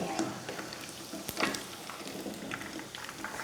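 Shrimp wrapped in rice noodles deep-fry in hot oil, giving off a soft, steady crackle and fizz with scattered pops, heard quietly and without talk.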